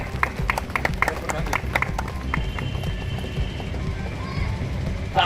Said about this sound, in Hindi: तालियों के साथ हम लोग अपने मुख्य अतिथियों का स्वागत वंदन करेंगे।